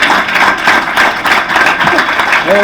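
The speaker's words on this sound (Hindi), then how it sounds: "कोई ताली मारो भाई" A spiritual lecture audience gives scattered applause, with irregular handclaps of moderate loudness and a voice faintly mixed in.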